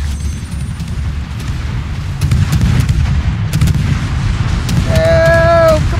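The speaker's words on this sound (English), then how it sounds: "Here come the guns." Heavy naval gun salvos in World of Warships, a dense continuous rumble of booms and blasts with a rising whistle-like tonal sweep near the end, loud and close.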